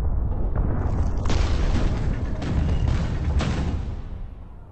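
Fireworks burst in the Minecraft Story Mode video game, a series of booming explosions with crackling tails over a few seconds, loud and close with no talk.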